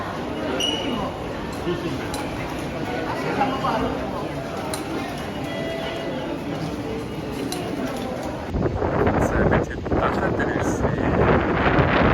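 Gusty wind at a windy stretch of coast in Japan roars and buffets the microphone steadily, swelling stronger and rougher toward the end, while voices talk underneath.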